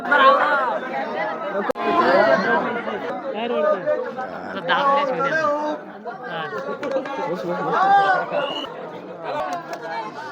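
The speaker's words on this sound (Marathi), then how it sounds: "लयच गर्दी आहे नाही का लय म्हणजे लय गर्दी" Dense crowd chatter from many voices at a busy Shiva temple on a hill pilgrimage day, a steady close hubbub of overlapping talk throughout.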